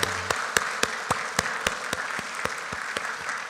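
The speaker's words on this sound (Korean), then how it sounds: "우리 다 같이 감사의 영광의 박수를 드렸으면 좋겠습니다" Sparse, distinct claps in a church sanctuary during a 97th anniversary thanksgiving service, sharp individual hand claps at an uneven, roughly regular pace over a quiet background hum.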